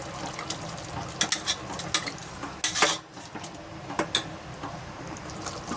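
A spoon stirs tomato paste through boiling mushroom pulao in a metal pot, with a run of close scraping and clinking strokes against the pan over a low bubbling simmer.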